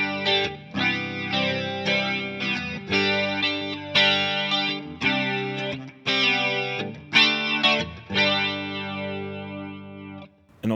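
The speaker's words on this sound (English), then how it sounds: "there's more going on than just a simple flanging effect that's going on in and out" Guitar through a TC Electronic TonePrint flanger pedal, a sweeping modulation effect moving in and out, with layered chords ringing in separate strummed phrases, steady and fairly loud with no voices.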